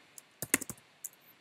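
Keystrokes on a computer keyboard, a quiet burst of about seven sharp clicks typed at an uneven pace, close up and alone with no voices.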